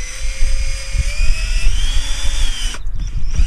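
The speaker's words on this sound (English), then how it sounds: "So with the drill on slow speed," A power drill running at slow speed while driving an antenna rotator whines steadily, its pitch edging up slightly before the motor cuts out near the end.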